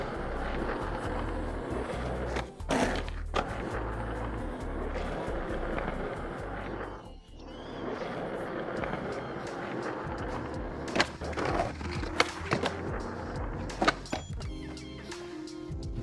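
Skateboard wheels rolling and a truck grinding along handlebars in the skateboarding game Skater XL, a long continuous scraping rumble with brief clacks and landings near the end, no talk over it.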